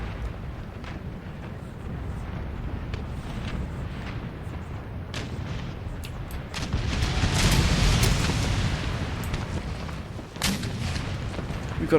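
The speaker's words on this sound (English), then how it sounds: "We've got 102 guns here, battering them here." Rolling naval cannon broadsides in Empire: Total War, heavy booms and rumbling blasts layered into a continuous barrage, swelling loudest midway.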